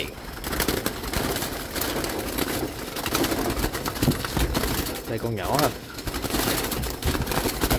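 Malaysian doves cooing repeatedly in a noisy setting, soft rhythmic coos under someone talking close by, with a faint engine hum in the background.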